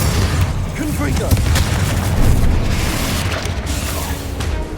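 Spell explosions booming in the Hogwarts Legacy video game, the Confringo blast heard as loud rumbling booms over continuous game action and a voice, sustained and dense throughout.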